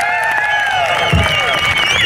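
A crowd cheers, claps and whistles for a jazz band at a Jazz & Shiraz event, with high whistles sliding over dense applause while an announcer's voice carries on top.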